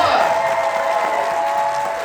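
Audience applause at a fan festival Q&A panel in Dallas, a dense, steady wash of clapping from a large crowd that holds at an even level for the whole stretch.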